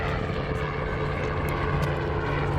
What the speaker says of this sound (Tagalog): May helicopter sa taas.